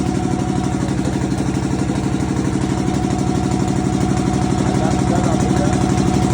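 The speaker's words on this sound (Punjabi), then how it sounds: "ਪੈਡਲ ਬੋਰਡ ਲੱਗ ਰਿਹਾ ਆਰਾਮ ਨਾਲ ਚੱਲਦਾ ਹੈ 10 ਦਾ ਇੰਜਣ ਹੈ" A 10 hp farm engine runs a pedal board, giving a loud, steady, close thudding chug at an even rhythm with mechanical clatter, and no voices over it.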